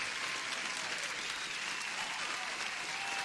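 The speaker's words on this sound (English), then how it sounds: "Huge applause." Applause sound effect played on a livestream: a dense burst of crowd clapping, steady and bright for a few seconds, fairly quiet overall with no other sounds standing out.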